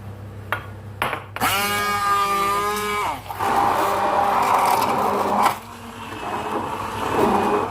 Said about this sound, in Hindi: मैं हैंड ब्लेंडर यूज़ कर रही हूँ। इसको ब्लेंड में डालेंगे और इसका पेस्ट बना लेंगे।